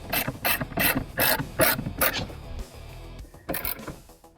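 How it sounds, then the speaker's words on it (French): A ratchet clicks in quick bursts while tightening bolts during a shock absorber installation on a Secma F16, close and rhythmic with short pauses between strokes and no talk. "donc le boulon ici, le boulon ici, on va resserrer tout ça"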